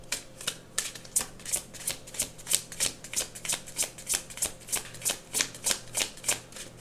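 A deck of tarot cards is shuffled by hand, a rapid run of crisp riffling bursts repeating evenly about three times a second, close and alone.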